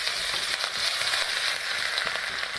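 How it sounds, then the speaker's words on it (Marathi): Green chillies and garlic fry in hot oil for a Maharashtrian vegetable dish, giving a close, steady crackling sizzle with no talk over it. "तर आता मी हिरवी मिरची आणि लसण हे टाकून घेतले"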